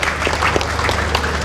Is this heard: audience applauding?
yes